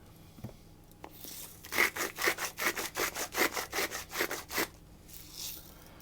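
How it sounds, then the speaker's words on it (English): A hand grinder cranks pepper and salt over a breakfast muffin mix of eggs and milk: a close, dry run of about fifteen quick rhythmic rasping grinds, alone in a quiet kitchen. "But I would just grind, a little bit of pepper and a little bit of salt at this stage."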